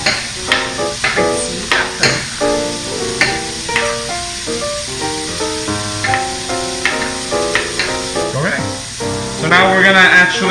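Bacon renders its fat with a sizzle in a pot as it is stirred, the crackle running steadily beneath a person talking nearby, with a louder hissing burst near the end.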